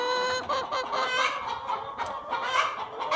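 Chickens on a backyard roosting bar cluck and chatter continuously, several birds overlapping close by with soft, busy calls and no talking.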